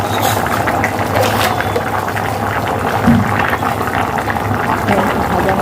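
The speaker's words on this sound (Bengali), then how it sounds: "ছোলাটা যতক্ষণ একটু সেদ্ধ হয়ে নিই" Chickpeas simmering in a pot of water for chana matar, a steady bubbling boil close by that runs evenly for several seconds with no talk over it.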